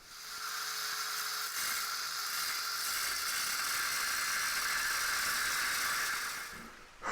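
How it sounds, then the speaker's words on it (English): Wire brush scrubs steel contact points on a trailer frame being prepped for welding, a steady close whirring rasp lasting several seconds before stopping abruptly. "and then we'll wire brush our contact points."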